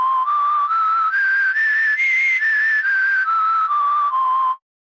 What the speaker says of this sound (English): How to make a synth whistle in Vinyl in under 60 seconds.